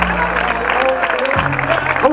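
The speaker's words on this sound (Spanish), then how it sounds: "Aplaudimos, amigos, amigas." Spectators at a road race in L'Eliana clap for a third-place finisher, brief scattered applause running under an announcer's amplified voice on a PA.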